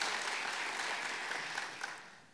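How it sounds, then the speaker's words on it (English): Audience applause at the DevOpsDays DC 2019 conference, steady and broadband, holding strong for about two seconds before starting to thin out at the end. "we should give Nancy a round of applause"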